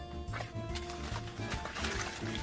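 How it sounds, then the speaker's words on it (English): Chicken and ham lasagna gets a quick stir in a pot, with wet, sloshing scrapes repeating in a fast, busy rhythm at close range over a constant background hum. "I'm just going to give it a quick stir."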